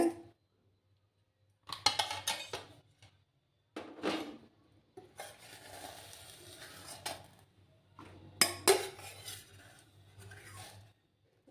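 Pots lifted off a gas stove in a home kitchen after cooking flat beans: a few scattered metallic clanks and scrapes in short bursts separated by quiet gaps, close by, with no talking.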